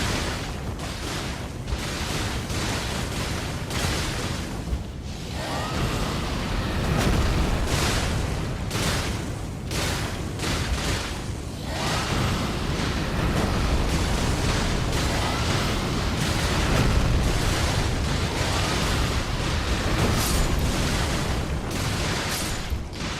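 A fire weapon in a video game burns a horde of zombies, a dense, continuous roar of crackling bursts and booming blasts that surges and dips for over twenty seconds without letup.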